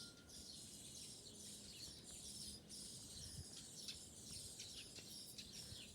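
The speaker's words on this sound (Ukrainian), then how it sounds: "а тут сверчать шпаки, які вилупилися у своїй шпаківні." Many tiny high-pitched chirps and squeaks from starling chicks inside a birdhouse overlap continuously in a faint, busy chorus, muffled and steady, with low outdoor background noise.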